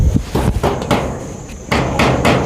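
Hammering during the dismantling of a house roof, with a series of sharp, irregular blows struck at close range, some closely spaced and others separated by short pauses.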